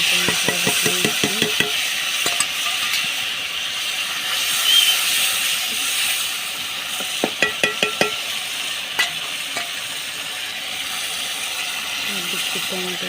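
Spiced paste with tomato paste, turmeric and chili powder cooks down in a pan for tangra fish jhal, giving a steady broad sizzle with repeated sharp clicks of a utensil scraping and stirring, close and moderately loud throughout.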